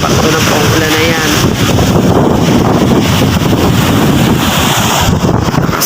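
Strong wind roaring into the microphone, loud and buffeting throughout, with a faint rushing of water in the background.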